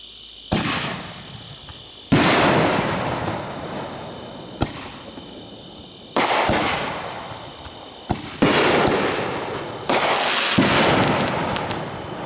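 Canister shell fireworks, including Caliber and black-market shells, fire off outdoors at night: five or six loud launches and bursts spaced a couple of seconds apart, each trailing into a crackling, rumbling tail.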